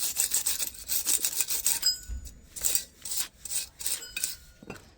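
Wire brush scrubbing the brake hub surface of a Nissan Note during a front disc and pad change, a close, rasping back-and-forth scraping in repeated strokes with a brief pause partway through.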